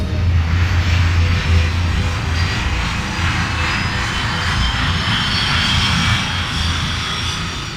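An airplane's engines roar steadily and loudly through its takeoff run, a dense continuous rush with a low rumble underneath, no voices.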